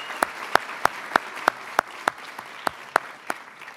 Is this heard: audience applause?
yes